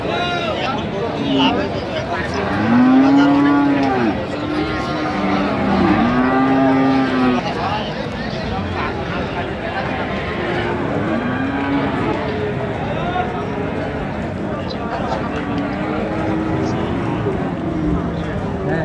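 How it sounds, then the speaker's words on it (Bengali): Sahiwal cattle low repeatedly at a busy livestock market in Dinajpur, with several loud, drawn-out moos near the start and fainter calls later, all over constant crowd chatter and voices. "বেশ সুন্দর গরুগুলো দেখছিলাম যে গরুগুলো কিনছেন কাউসার"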